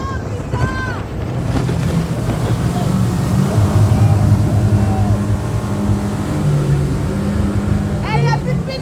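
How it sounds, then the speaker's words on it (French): A boat driven by two outboard motors passes at close range with a continuous loud engine drone, mixed with wind buffeting and water wash, while voices talk briefly over it near the start and end. "Il y a 2 moteurs derrière."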